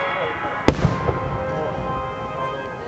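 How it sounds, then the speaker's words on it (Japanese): Fireworks at an outdoor display in Japan pop with one sharp bang and a few smaller cracks over a loud, steady crowd rumble, while people talk nearby. "今から花火開けます"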